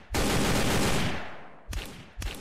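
Gunfire in the video game Sneak Thief: a sustained burst of rapid shots followed by two sharp single cracks, loud and close with no talk.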